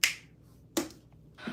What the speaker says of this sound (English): Snap your fingers in a Z snap.